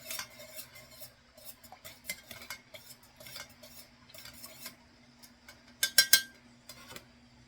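A utensil stirs melting soy wax for candle making, with light scraping and clinking taps against a metal pot, intermittent and quiet, with a sharper cluster of clinks toward the end.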